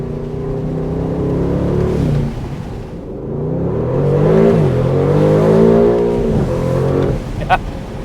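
The V8 of an Aston Martin DB12 Volante revs and rises in pitch, then eases off, with a sharp pop near the end, heard from inside the open car with someone speaking over it.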